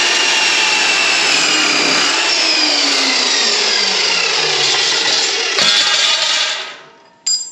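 Power saw cutting through steel angle iron and throwing sparks, a loud continuous grinding whine with a falling pitch that runs for several seconds, then stops with a brief clank at the end.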